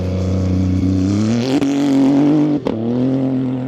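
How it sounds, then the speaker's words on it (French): A loud Ford rally car engine at full throttle during the Dakar Rally roars steadily at high revs, pitch climbing gradually, with two brief gear-shift dips before surging again. "Attention, le Ford il va mettre plein gaz"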